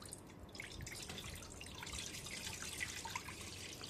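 Tap water running and splashing into a steamer pot while modak is being prepared, a soft, steady trickle with dripping textures, fairly faint and without talk.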